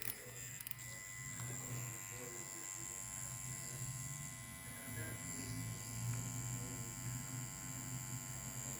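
A rotary tattoo machine running a 7 liner cartridge needle hums with a steady low electric buzz throughout, quiet and close, with someone talking over it.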